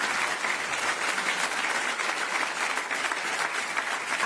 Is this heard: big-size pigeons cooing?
no